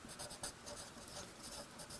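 Pen writing a Valentine's Day message on paper, a soft continuous scratching with quick strokes, quiet and close, no talking.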